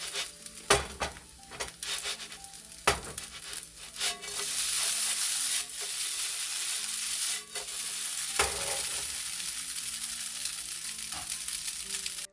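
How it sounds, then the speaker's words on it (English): Dried noodles frying in a nearly dry pan for chicken chow mein, a steady close sizzle with intermittent scraping and stirring knocks, rising in intensity partway through, no talking. "It's time to flip the noodles over when it sounds like this."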